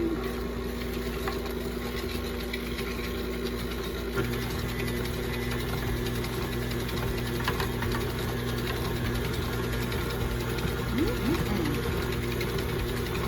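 An electric stand mixer runs steadily, mixing granulated sugar into pound cake batter for strawberry cream cheese pound cake, a constant motor hum with no voices.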